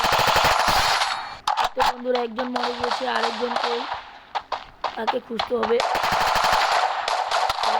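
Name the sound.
gunfire in Free Fire video game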